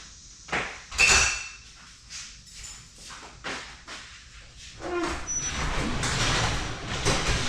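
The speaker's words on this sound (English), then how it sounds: "This is getting a little tiring to have to manually open up this double garage door" A double garage door hauled open by hand, with irregular scraping, clunks and rattling bursts building into a sustained, louder rolling rumble toward the end.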